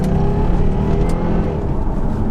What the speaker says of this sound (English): You can hear the supercharger whirring.